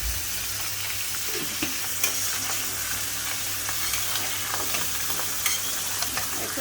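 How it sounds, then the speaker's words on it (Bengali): Vegetables (eggplant, tomato, papaya, potato and spring onion, salted) stirred as they fry in a pan for a pabda fish curry: a steady close sizzle with scattered scraping clicks of the spatula, no talking. "একটু নাড়াচাড়া দিয়ে দেব।"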